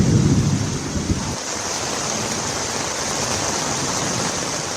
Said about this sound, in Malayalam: ഇന്നലെ രാത്രി മുതൽ നിലയ്ക്കാതെ പെയ്ത മഴയാണ് ഡൽഹിയെ വെള്ളത്തിൽ മുക്കിയത്